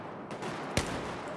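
A single sharp gunshot from the Battlefield 1 video game cracks out mid-clip over a steady, noisy battlefield background, with scattered faint shots earlier.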